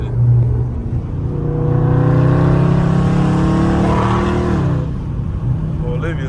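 A Dodge Scat Pack V8 accelerates hard on a highway, heard from inside with a loud, rising engine roar and road rumble over several seconds, then settling.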